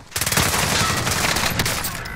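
Rapid automatic gunfire from a video game firefight, dense bursts of shots rattling loud and close for the whole stretch, with faint voices under it.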